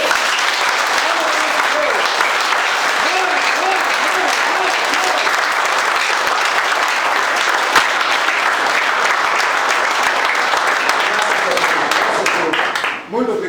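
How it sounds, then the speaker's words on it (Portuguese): A church congregation gives God a long, loud round of applause, steady dense clapping with faint voices mixed in, sustained throughout before tapering off at the very end. "Então eu quero pedir uma forte salva para o nosso Deus."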